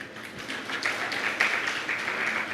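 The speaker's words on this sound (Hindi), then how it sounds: "ताली मत बजाओ" An audience at a Hindi sermon claps, a soft, scattered patter of hands at a distance that rises and falls for a couple of seconds.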